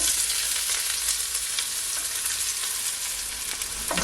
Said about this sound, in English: So now I'm just gonna add my onion